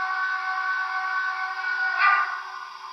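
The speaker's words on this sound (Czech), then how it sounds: "No ale pak tady na trojce je hlavní píšťala." A model steam locomotive's main whistle sounds as a steady, reedy multi-tone hoot held for about three seconds, with a brief swell near the end and no talk.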